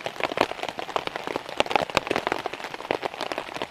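Rain beats steadily on a tarp shelter at a solo camp during a rainstorm, a dense close patter of drops with scattered sharper taps, continuous and fairly loud with no talking.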